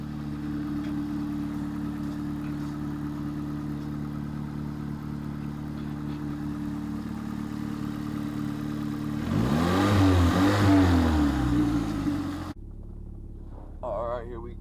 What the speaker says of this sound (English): I'm going to show you guys this car running